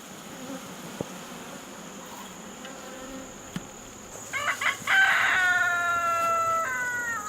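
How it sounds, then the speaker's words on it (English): Honey bees buzzing steadily around a new hive being set up outdoors, a constant close hum with a rooster crowing loudly partway through. "Got tons of bees everywhere"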